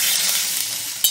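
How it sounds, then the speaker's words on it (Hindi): A loud, continuous sizzle and hiss as water is poured into a hot pan of oil and spices while cooking colocasia leaves, with a brief sharp clink at the very end. "अब इसमें पानी डाल देंगे"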